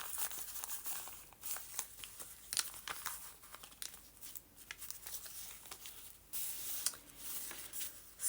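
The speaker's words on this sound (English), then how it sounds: "This is made on newsprint paper, so it has this nice sound." Thin newsprint paper pages rustle and crinkle close up, with repeated crisp crackles and soft swishes in an irregular rhythm, no voices.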